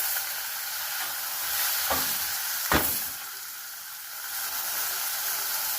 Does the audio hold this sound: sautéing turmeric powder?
yes